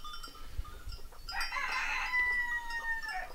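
A rooster crows loudly on a small farm in Arnín, Villaviciosa, kept alongside sheep, rabbits, ducks and ponies. A long drawn-out call rises after a few soft thumps and clucks, with no talking.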